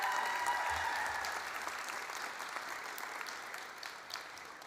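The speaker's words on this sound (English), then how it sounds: "Okay, so Carrie definitely needed applause" Audience at a nursing pinning ceremony claps steadily and evenly for the whole stretch, a dense wash of applause with no voices over it.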